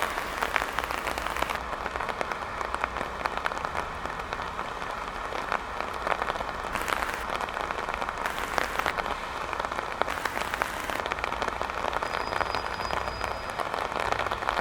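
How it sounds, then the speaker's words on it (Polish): Steady, dense rain pouring down outdoors on General Bem Square in Olsztyn, a continuous hiss of drops striking surfaces with no break, loud and close throughout. "Deszcz jest coraz większy, także na chwilę przerwę nagrywanie."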